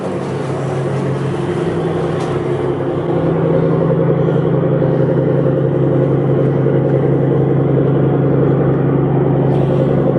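Big marine engines roar in the engine room of a Trader 535 Sunliner motor yacht, a loud, steady low rumble and drone that holds without a break.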